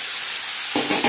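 Spices and turmeric being stirred in a pan for a cauliflower and potato curry: a steady faint sizzle, then about 0.7 s in several close scraping strokes of a spoon against the pan bottom.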